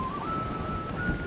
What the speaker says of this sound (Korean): 이게 음악 소리가 아니고 아마 쇠랑 쇠 사이로 바람 들어가는 소리 같아.